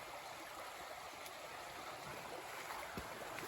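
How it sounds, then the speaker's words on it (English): A river flows beyond trees beside a hiking trail, making a steady, soft, broadband rush that sounds distant and even throughout, with no voices. "You can't see it through those trees, but really nice river."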